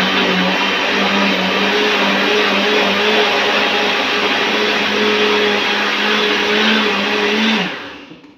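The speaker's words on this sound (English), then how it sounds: "I can barely see if the berries are blending" A blender whirring steadily as it blends berries into a grape smoothie, a loud, constant high-pitched motor drone with a slight shift in pitch midway, then spinning down abruptly at the end.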